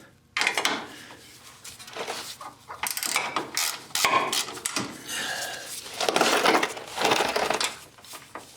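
Ratchet wrench loosening 12mm bolts on a Honda Accord sway bar bracket, a series of close, loud clicking ratchet bursts in uneven strokes with short pauses between, no talking.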